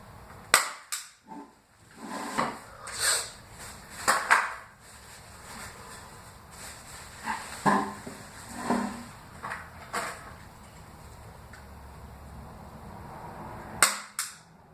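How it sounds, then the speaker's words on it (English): Staple gun fastening plastic greenhouse cover to a mini greenhouse frame, sharp snapping shots at irregular intervals, some close and loud, others softer, with faint handling rustles between them. "I'm going to go ahead and staple here, and then I'll just cut the excess off."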